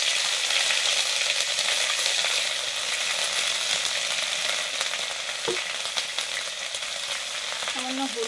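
Onion paste and dry chili fry in mustard oil with a constant loud crackling sizzle. A brief clink sounds about two-thirds of the way through and the hiss eases slightly toward the end.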